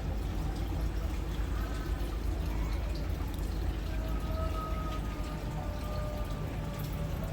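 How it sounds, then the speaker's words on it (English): Water from a bucket pours into a fish tank, a continuous rushing splash that holds steady throughout, close and fairly loud. "Probably need one more bucket of water."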